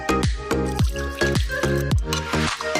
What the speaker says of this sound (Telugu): కొంచెం వాటర్ పోసుకొని పిండుకొని వడకట్టుకుందామండి